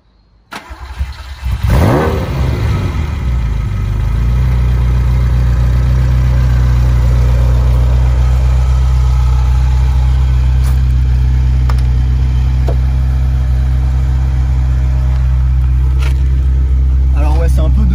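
A car engine cranks and catches in a short burst, then settles into a steady, loud, close idle that runs on alone for the rest of the stretch.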